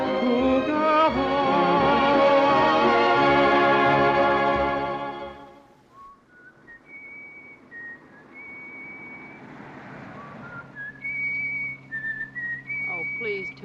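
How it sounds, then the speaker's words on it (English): A man whistles a tune in a 1944 wartime drama; clear whistled notes come in short phrases over quiet room noise, after a swelling orchestral passage fades out. "whistle something else"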